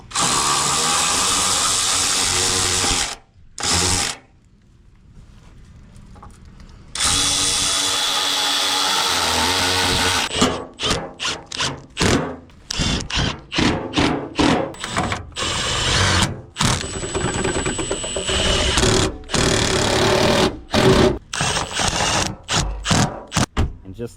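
Power tool bolting a fender onto a 2014 Dodge Charger during a 2021 facelift conversion, loud bursts of whirring and rattling impact runs, first long sustained stretches then a rapid series of short stop-start bursts, with no talking.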